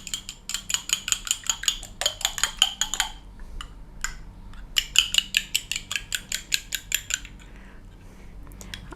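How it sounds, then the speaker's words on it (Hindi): A fork or whisk beats egg in a bowl for a Lucknowi galawati kebab mixture, making rapid, even metallic clicks in two bursts separated by a short pause, close and fairly loud, with no voices. "ये अंडे को फेंटकर हम अंडा डालेंगे।"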